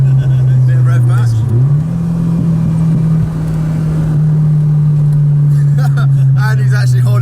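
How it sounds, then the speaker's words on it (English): A Fiat Uno Turbo engine heard from inside the car, a loud steady droning hum that briefly dips and rises with a rev-matched downshift, while people talk over it near the end. "Bit of rev match."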